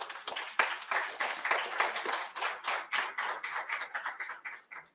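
A small audience at an organizing club's event claps by hand for an honoree, a sparse ragged applause of individual claps that pulses unevenly and thins out toward the end.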